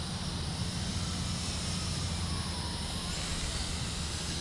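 An E-flite Air Tractor 1.5 RC plane on a 3S LiPo glides past with power off, a steady airy whoosh of wind noise with a low rumble, holding an even level throughout.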